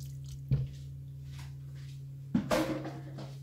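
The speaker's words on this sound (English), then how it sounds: "we're going to add 800 grams of chicken" Chicken thighs dropped into a pan of reduced sauce, giving two soft wet squelches a couple of seconds apart over a low steady hum.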